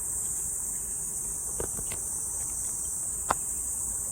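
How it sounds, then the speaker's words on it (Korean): A steady, high-pitched insect drone fills the air continuously, with a couple of faint clicks and a soft tap near the end. "매미 소리에 시끄러워."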